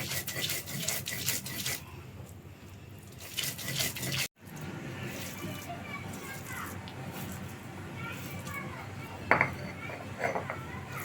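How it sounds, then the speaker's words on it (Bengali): Boiled yardlong beans are ground by hand on a stone slab (pata), with a steady gritty rubbing and scraping under a voice speaking nearby. "একদম মিহিন করে বেটে নেব"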